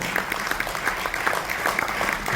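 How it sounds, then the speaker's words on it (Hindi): Applause from an audience at an annual award function, dense clapping with distinct individual claps popping through, steady and fairly close, with no speech over it. "वो दो तालियों के साथ उनका स्वागत और अभिनंदन।"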